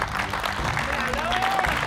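An audience applauds during a grand final match show, a short stretch of dense crowd clapping with a voice talking over it and a brief tonal sweep.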